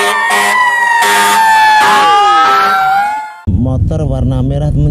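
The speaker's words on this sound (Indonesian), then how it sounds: "Ini mobil pemadam kebakaran atau fire truck yang bentuknya seperti ini" A fire truck siren wails loud and close with rising and falling tones, then the sound cuts abruptly into a different pulsing siren pattern with a heavy low rumble.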